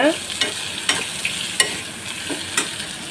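Chickpea curry sizzles gently in a pan over a low flame while a spoon stirs it, giving a steady soft frying hiss punctuated by light scraping clicks every half second or so, close up and without speech.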